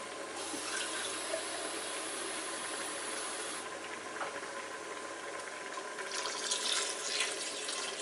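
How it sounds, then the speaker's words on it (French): Water pours into a pressure cooker holding beef bourguignon, a steady rushing fill that runs for several seconds at close range and briefly changes tone near the end, with no one speaking. "Voilà, on va rajouter un petit peu d'eau."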